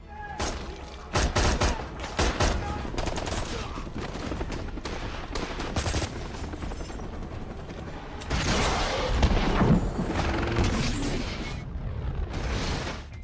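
Gunfire rings out in a film shootout, with dense bursts of sharp shots and rapid automatic fire, loud and close, rising again in heavy volleys after a slightly quieter middle stretch.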